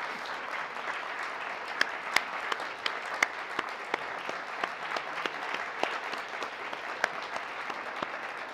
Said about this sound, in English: give a round of applause to our Chinese visitors